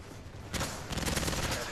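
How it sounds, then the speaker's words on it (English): Shotgun blasts and other gunfire in a video game crack loudly in quick succession, a sharp burst starting partway through and then a run of repeated shots, close and dense. "The shotgun! That always gets you!"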